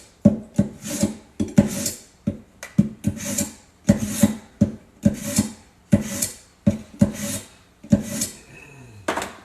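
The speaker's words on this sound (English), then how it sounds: "Just gonna sharpen my knife." A kitchen knife is sharpened during Mexican meatball soup prep: about fourteen quick, even rasping strokes in a steady back-and-forth rhythm, close and clear, with no talking.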